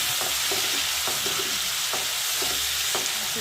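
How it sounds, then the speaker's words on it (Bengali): Ground spices mixed with water fry in hot oil with tempering while being stirred, a constant loud sizzle with regular scraping strokes of the spoon close by, no talking. "এবার মশলাটা একটু কষানো হবে একটু সময়ের জন্য।"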